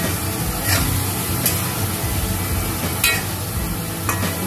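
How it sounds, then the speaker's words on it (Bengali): Potatoes and fritters are stir-fried together with spices in a pan, producing a continuous sizzle broken by a few sharp scraping strokes of a spatula. "আলুটা দিয়ে দিল, তার সাথে বড়াটাও দিয়ে দিল এর সাথে একসাথে দিয়ে ওটাকে একটু মশলার সাথে কষিয়ে নিচ্ছে ভালো করে।"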